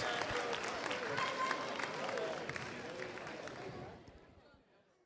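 A crowd at a high school basketball game applauds the homecoming king and queen, a dense, steady wash of clapping and cheering that fades out over the last second.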